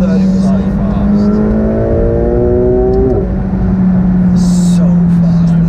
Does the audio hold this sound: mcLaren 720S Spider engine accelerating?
yes